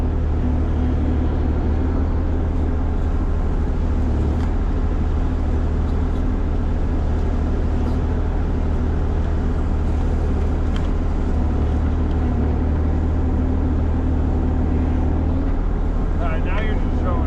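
A large excavator engine idles while running a hydraulic attachment, a constant deep rumbling drone with a steady hum holding level throughout, close and loud, with a few faint clicks on top.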